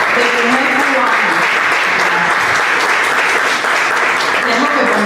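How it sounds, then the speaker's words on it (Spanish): Sustained, dense audience applause for Cuban actress Amada Morado at a theatre and literature gathering, loud and steady throughout with some voices underneath. "Vamos a aplaudirla por porque ella es un ejemplo de mujer cubana."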